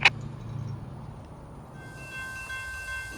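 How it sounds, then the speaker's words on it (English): A CSX weekday local freight train passes on the Sanford Subdivision near Palatka, Florida, with a steady low rumble of rolling cars, a brief sharp sound at the start and a faint distant horn tone toward the end. "This train coming south is weekday local L711, which runs out of Moncrief Yard in Jacksonville and works customers around Palatka."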